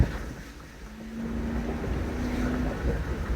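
A 4.6-liter four-valve V8 in a Lincoln Aviator with a cold air intake runs as a low, steady engine rumble mixed with road and wind noise. A faint steady tone rides over it, and nobody talks.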